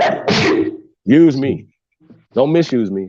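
A man sneezes sharply and close at the start, a noisy burst that gives way to someone speaking in a steady voice.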